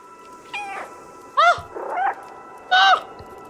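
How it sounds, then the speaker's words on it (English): A player-controlled cat in the video game Stray meows four times, each call short, clear and fairly loud, separated by brief gaps over a low steady hum. "I can meow"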